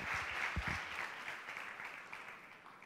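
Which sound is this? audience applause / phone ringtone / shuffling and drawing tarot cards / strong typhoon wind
audience applause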